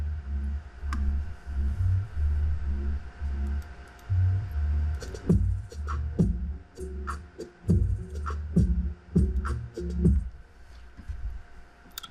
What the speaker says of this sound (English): probably a reverse 808 reverse kick